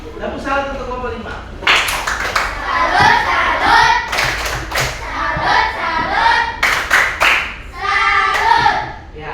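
Students in a coding and artificial intelligence training class clap in a patterned salute for one group, loud rhythmic hand claps in bursts mixed with children's voices and talking between them.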